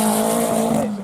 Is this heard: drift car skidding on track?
yes